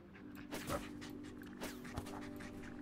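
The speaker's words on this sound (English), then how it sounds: "It's a wiener dog! It's full wiener dog!" A wiener dog in the golf game What the Golf pants in quick rhythmic breaths with a few soft whimpering bursts, close and moderately loud over a low steady game hum, with no talking.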